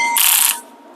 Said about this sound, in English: electric ratchet.